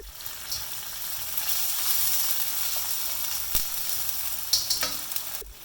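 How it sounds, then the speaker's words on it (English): Onion and chili paste frying in a wok for Malaysian wet fried flat noodles, a steady close hiss of oil with a few light spatula taps and a sharper knock at the end. "just give this a fry for a few minutes until the onions are translucent"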